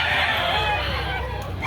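Chickens and roosters at a poultry market, a busy mix of crowing and clucking under low background hubbub, heard continuously and fairly close.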